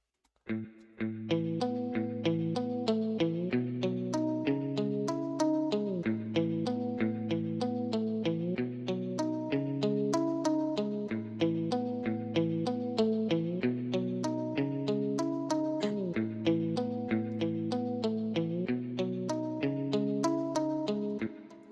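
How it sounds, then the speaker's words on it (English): A looping pattern of short, plucked muted-guitar notes repeats steadily in a tight rhythmic groove, with no voices over it. "this muted guitar is a one shot from one of my packs that I have here"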